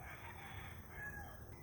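Rooster crowing in a farm barn among young chickens, faint and somewhat distant, a single drawn-out call over low background noise.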